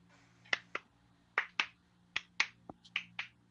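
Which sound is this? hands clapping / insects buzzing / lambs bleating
hands clapping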